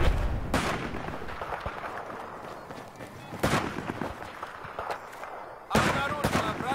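Battlefield 4 battle gunfire with sniper rifles, several sharp, loud shots spaced a couple of seconds apart over constant rumbling combat noise, with a player's voice talking over it.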